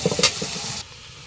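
Onion and green chili dropped into hot oil in a wok on a clay stove, giving a brief close sizzle with a few stirring taps that cuts off abruptly.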